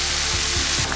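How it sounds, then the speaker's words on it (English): Chopped vegetables frying in a hot pan as tomato paste goes in for German cabbage rolls, a loud steady sizzle close up with faint scraping taps. "Fried all that veggies together, and now I'm gonna add the tomato paste."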